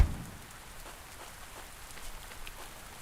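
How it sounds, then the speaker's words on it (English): Steady rain falls in the Fernhoof Grove video game, an even, dense patter of drops on surfaces with no talking. "And it's raining."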